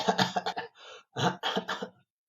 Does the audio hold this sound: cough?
yes